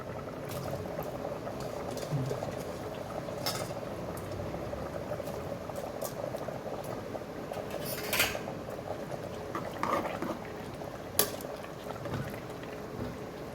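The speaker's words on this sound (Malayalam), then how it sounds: "ഇനി ഞാൻ അതിനകത്തോട്ട് ബാസ്മതി റൈസ് ഇടുവാണേ." Basmati rice goes into a pot with cooked mutton, bringing a steady bubbling boil, soft pouring and stirring sounds, and a few light metallic clinks of a utensil against the pot.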